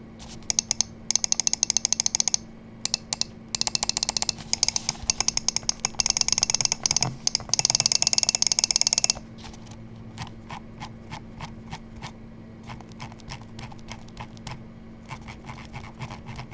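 Rapid clicking of a Razer DeathAdder V4 Pro gaming mouse, with dense bursts of sharp clicks at first and then sparser single clicks, close and fairly quiet, with no talk.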